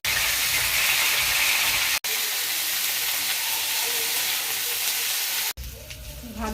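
Cauliflower florets sizzle loudly in hot oil in a wok, a dense continuous hiss that drops off sharply and returns, easing to a quieter crackle at the end.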